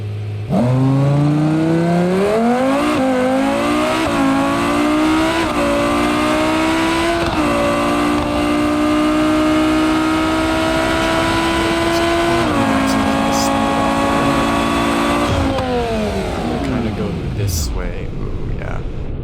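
A car in BeamNG.drive career mode accelerates hard for a high-speed jump; the engine revs climb through several gear shifts, holding a loud, strained whine before dropping away sharply at the end.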